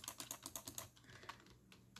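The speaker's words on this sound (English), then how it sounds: "Sorry if you can hear my clicking." Rapid, crisp clicking of a computer keyboard and mouse during online gaming, a quick run of close, loud keystrokes followed by sparser taps.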